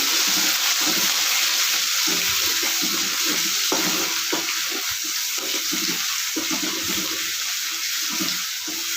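Garlic paste goes into hot spiced oil in a pan and is stirred, giving a continuous watery hiss and bubbling sizzle with soft irregular scraping taps throughout, close up and without speech.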